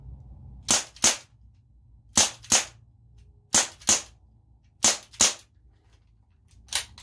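Winchester 4.5 Special CO2 pellet revolver firing eight sharp shots double action, spaced mostly in quick pairs with short pauses, close and fairly quiet against a low background hum.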